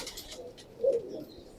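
A teddy pigeon, an old-style breed, gives a short low coo alone at moderate distance against a quiet background.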